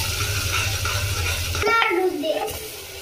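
Whole cardamom, cloves, black peppercorns, caraway and bay leaves go into hot oil for spinach rice, with a low steady hum before a short sizzle and a light clatter from the pan and stirring.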